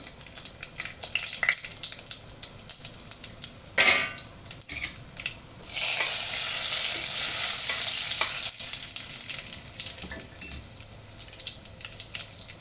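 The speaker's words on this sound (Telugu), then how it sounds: "ఆయిల్ వేడైంది కదండి, ఆవాలు, జీలకర్ర, ఎండుమిర్చి వేసేద్దాం తాలింపులోకి." Mustard seeds, cumin and dried red chilies dropped into hot oil for a dal tempering, with spoon clinks and stirring, then a sudden loud burst of crackling sizzle that slowly settles.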